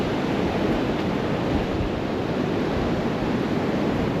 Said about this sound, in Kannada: ಇಲ್ಲಿ ಗಂಟ ಬರುತ್ತೆ ಅಲೆಗಳು